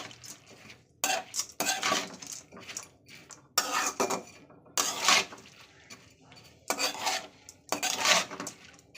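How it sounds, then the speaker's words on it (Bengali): A metal spatula stirs dal in a pot, giving repeated bursts of scraping and clanking against the metal that come in uneven strokes, close and fairly loud, with no talking. "দেখতে পাচ্ছেন এটা খুন্তি নিয়ে নিয়েছি চলুন ভালো করে এটা আমি মিশিয়ে নিই"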